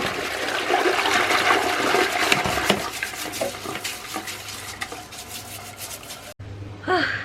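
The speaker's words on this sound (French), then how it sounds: "je vais tirer la chasse et brosser un petit peu" A household toilet flushes loudly with a long rushing, gurgling swirl of water and scrubbing sounds mixed in, then cuts off abruptly before a short refill hiss.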